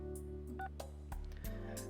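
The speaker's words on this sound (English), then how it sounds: "I dial the number." A telephone number is dialed in the Fate/Stay Night visual novel, a quick run of touch-tone beeps over a sustained background tone, with no voices.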